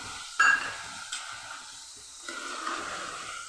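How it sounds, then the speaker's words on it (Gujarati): Green chickpeas and potatoes tumble into a pan of Kathiyawadi curry, a brief clatter followed by soft stirring and a low, steady sizzle close by. "અને આપણે લીલા ચણા પણ ઉમેરી દઈશું"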